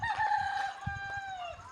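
A wild junglefowl rooster crows close by, one long wavering cock-a-doodle-doo that falls in pitch at the end, with a second fowl heard near a village home.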